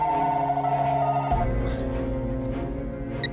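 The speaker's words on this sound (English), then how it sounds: "Carla uses her cell phone to call their home line" A home landline telephone rings in the middle of the night, a loud, steady electronic tone that drops in pitch partway through and carries on continuously, close and clear.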